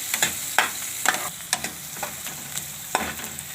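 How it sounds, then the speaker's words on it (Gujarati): Onions frying in a pan for Manchurian, with a steady crackling sizzle broken by several sharp stirring scrapes and taps of a utensil at a loose rhythm, close up and with no talking. "આપણે બધી ડુંગળી નાખી દીધી છે. સરસ આને આપણે ચડવા દઈશું."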